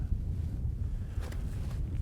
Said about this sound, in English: It's blustery and windy.